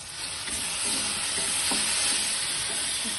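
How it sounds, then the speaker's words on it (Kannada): Tomatoes fry in hot oil for a ridge gourd curry, making a loud, steady, close-up sizzle with faint clicks of stirring underneath, and no one speaks. "ಟೊಮೊಟೊ ಬಿಸಿದೆ ನೋಡೋಣ. ಫ್ರೈ ಆಗ್ತಾ ಇದೆ."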